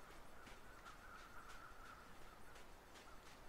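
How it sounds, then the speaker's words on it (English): Faint, distant crows cawing in the video game The Long Dark, a handful of harsh calls spread over a steady hiss of wind-like background. "The crows might be above something."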